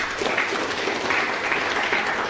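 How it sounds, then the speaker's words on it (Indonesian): Participants at a self-compassion talk applaud themselves, a brief, dense, steady patter of many hands clapping at moderate loudness. "Sekali lagi tepuk tangan buat diri kita sendiri"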